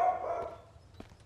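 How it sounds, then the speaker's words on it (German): A dog in the survival video game Mist Survival barks in a short, fairly faint burst at the start, then fades into quiet background ambience. "Der Hund geht natürlich voll ab"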